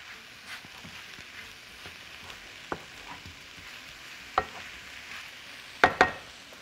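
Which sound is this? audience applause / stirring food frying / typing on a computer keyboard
stirring food frying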